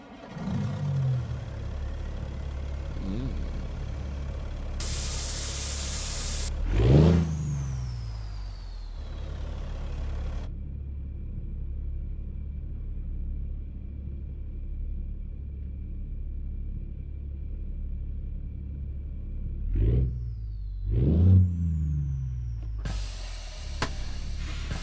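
A Peterbilt 350 truck with a tuned 425-horsepower Cat C12 diesel cranks and fires up, then idles with a deep steady rumble, broken by sharp hissing bursts of air and a few revs before settling again.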